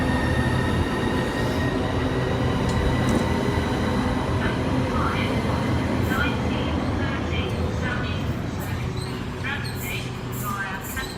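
A Class 375 electric multiple unit, number 375903, pulls into Ashford International station with a steady rumble of wheels and motors that stays loud throughout, light squeals and clatter rising near the end, and station sound in the background.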